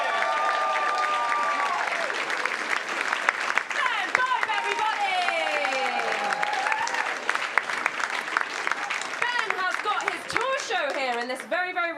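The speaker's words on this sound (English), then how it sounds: "Another massive round of applause for Ben!" Comedy club audience in Brighton gives a stand-up comedian a big, steady round of applause and cheering that runs the whole length, with a host speaking and music playing underneath.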